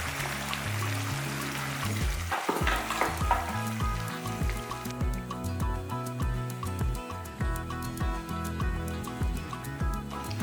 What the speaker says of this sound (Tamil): நம்ம அரைச்சி வச்சுருக்க மசாலாவை அதில் ஊற்றிடலாம்